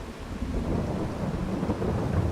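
Steady rain with rolling thunder in the farming game Farming Simulator 22, a continuous low rumble and dense patter filling the whole stretch without any voices.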